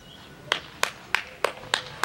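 Six sharp hand claps at an even, steady pace, fairly close and clear over a quiet room, given as a round of applause in a comedic home skit.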